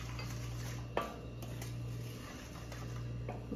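Bread dough ingredients with 60 ml of oil and a teaspoon of salt are stirred in a bowl. A spoon gives a few faint, close clinks and scrapes against a steady background hum.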